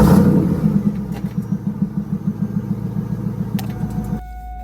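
An engine cranks over in rapid, even pulses on a collector car, lot 259, before stopping abruptly. The starter chugging is loud and close and runs for about four seconds, followed by a quieter tail.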